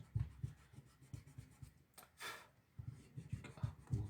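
Close, soft scrubbing of an eraser over a pencil sketch of a hand in rapid rhythmic strokes, pausing briefly midway before the rubbing resumes.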